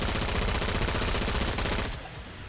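P90 submachine gun fired in Killing Floor 2, a loud continuous rapid-fire burst that cuts off abruptly near the end of the short stretch.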